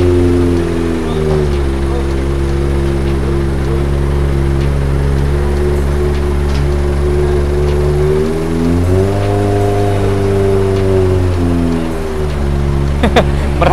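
A Kawasaki ZX25R sport motorcycle engine, cold after days unused, idles loudly and steadily up close while warming up, rising briefly in pitch as it's revved, then settling back to a rumbling idle.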